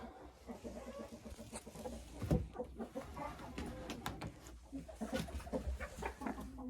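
A hen sits in a nest inside a henhouse, giving soft, scattered clucks and low murmurs at close range, with occasional rustling and knocks in the background.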